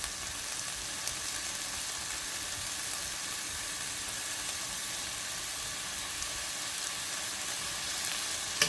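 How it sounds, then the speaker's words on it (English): Bacon fries in a pot with a steady, even sizzle and crackle, a continuous close hiss with only tiny pops and no voices. "Alright, so we have all our bacon in the pot"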